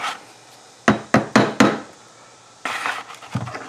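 A hammer strikes a stiff flat-blade screwdriver four times in quick succession to pry off a cap on a 2005 Jeep Grand Cherokee driveline, sharp metallic knocks close by, followed by scraping and clinking.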